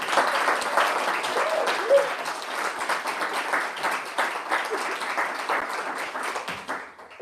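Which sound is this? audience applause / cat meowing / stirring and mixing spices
audience applause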